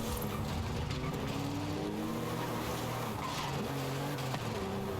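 An old Porsche in Forza Horizon 5 slides as it breaks traction, its tires squealing in long wavering tones over a revving engine, fairly faint, with no voices.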